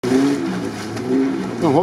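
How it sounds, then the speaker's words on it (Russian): An off-road trophy vehicle's engine revs up and down in bursts, loud and close, in a forest, with a voice talking over it. "Чувак газует, да?"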